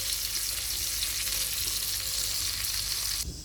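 Fish sizzling steadily in hot oil in a pan for dinner, a dense, bright crackle held at an even level close by and easing slightly at the very end, with no voices.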